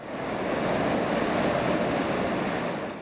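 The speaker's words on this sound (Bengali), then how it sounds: "ঝড়ো বাতাসের সাথে মুষলধারে বৃষ্টি" A steady, heavy roar of wind and torrential rain from Cyclone Remal on the Patuakhali coast of Bangladesh, dense and unbroken throughout, with no voices.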